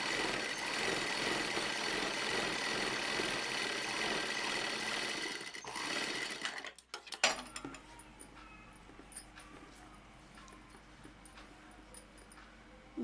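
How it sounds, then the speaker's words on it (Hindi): A sewing machine stitches a frill frock in a steady, close whir for several seconds, then halts with a few clinks and handling sounds before quieter rustling and light taps. "थोड़ा छोड़ के सिलाई लगाएंगे।"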